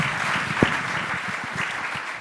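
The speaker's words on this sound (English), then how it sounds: "Please give them a round of applause." A conference audience at a regional Appalachian Ohio forum applauds its panelists with a full, steady round of clapping. One louder clap stands out near the start.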